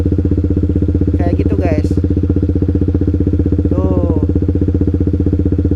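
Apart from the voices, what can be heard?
motorcycle engine running, moving off with half clutch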